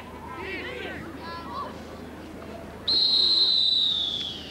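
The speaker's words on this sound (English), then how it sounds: "And that is the final whistle here at Páirc" A referee's long, loud final whistle blast sounds at an under-14 Gaelic football final, rising suddenly over crowd babble and shouting and holding for over a second before fading.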